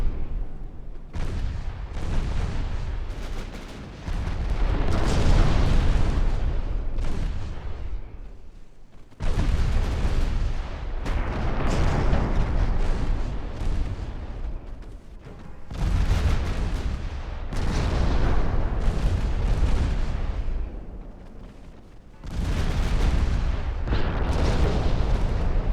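Enemy warship naval guns in Ultimate Admiral: Dreadnoughts, loud booming broadsides arriving in four long rolling waves, each a sustained roar of heavy blasts and rumble separated by brief quieter lulls.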